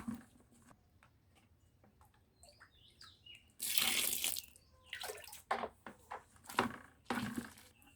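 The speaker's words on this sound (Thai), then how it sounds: "เดี๋ยวจะทำการใส่น้ำไม่ต้องใส่เยอะนะคะ" Water is poured into a mixing container while dishwashing liquid is being made, a short splashing gush in the middle followed by a few intermittent trickling pours, close and fairly soft, with no talking.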